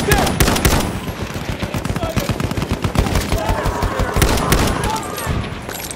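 Rapid machine gun fire in the Battlefield 1 Team Deathmatch on Amiens, loud and continuous with dense overlapping shots throughout, over battle noise.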